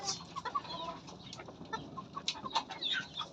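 Soft clucking of chickens mixed with scattered chirps and rustling, faint and fairly close, with no talking.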